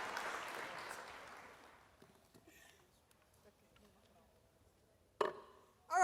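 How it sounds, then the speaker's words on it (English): Applause fills the room at the Future-Forward Female 25 Under 25 Awards Gala, loud at first and then fading to near silence, with a couple of sharp knocks near the end. "Please, a round of applause"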